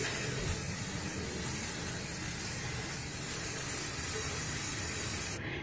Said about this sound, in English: And then I'm just gonna spray around the cup.